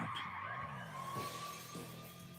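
A motorcycle ridden by a drunk rider skids with shrill, wavering tire squeals. The squeals sweep up and down over a fairly quiet engine background.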